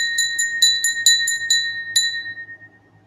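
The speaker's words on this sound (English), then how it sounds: "She's selling that bell from West Germany, lead crystal, beautiful sound, amber glass, which is obviously vintage." A vintage West German amber lead crystal glass bell, hand etched, rings in a quick run of about eight bright, clear strikes, each leaving a sustained shimmering tone that fades out at the end.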